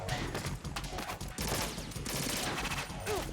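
Rapid bursts of gunfire in the video game Metal Gear Solid 2, dense overlapping shots in quick succession filling the whole moment, with a voice briefly present underneath.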